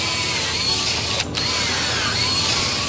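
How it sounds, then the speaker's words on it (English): A power drill whirs steadily and loudly up close, boring straight into thick ice, grinding continuously with a brief dip in the middle. "the best way to determine the thickness is by drilling straight into the ice"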